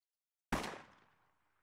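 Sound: distant gunshots in Fallout New Vegas video game

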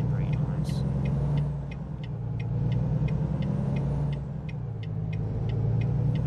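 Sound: Volvo truck engine driving, from video game American Truck Simulator

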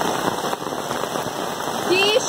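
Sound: heavy rain

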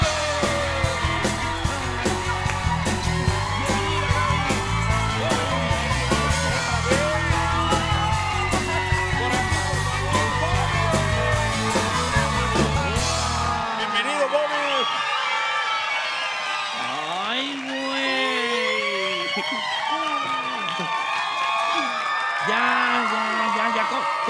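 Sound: audience screaming and cheering at a TV interview

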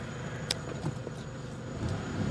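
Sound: repaired engine of a 2006 Toyota Hilux running

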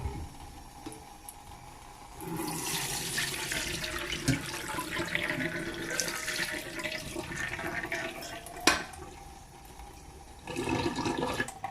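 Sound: washing ingredients in several changes of water

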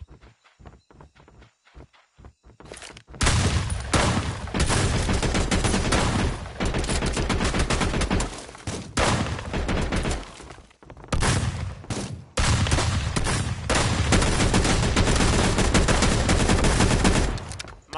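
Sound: gunshots from a shooter video game

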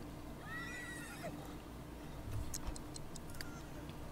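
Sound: horse neighing in the video game The Sims 3 Pets

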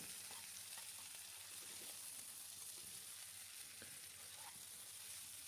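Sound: frying cauliflower with turmeric and spices in pan

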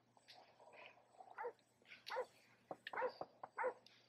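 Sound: dog barking in video game Grand Theft Auto V

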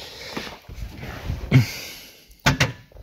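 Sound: electric contactors clicking in, Land Rover with Tesla Model 3 parts

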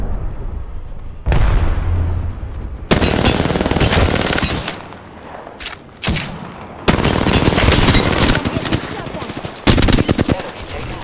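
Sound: gunfire in the video game Apex Legends

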